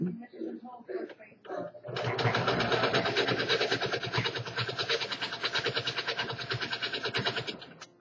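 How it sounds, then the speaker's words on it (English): Sewing machine running a fabric cuff seam for baby leg warmers: after a few soft handling noises, a steady, close, rapid mechanical stitching chatter runs continuously for about six seconds at moderate level with no talk. "Do a quick back stitch to seal it, and clip your threads."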